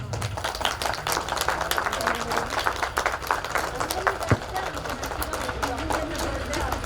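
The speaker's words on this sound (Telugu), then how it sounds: "Please claps." Steady applause from an audience at a 1994-95 batch get-together, dense overlapping claps running the whole time at moderate distance, with voices murmuring underneath.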